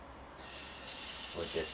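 Water running steadily from a kitchen tap to rinse cut food, a continuous close hiss that brightens and splashes slightly as the food passes under the stream.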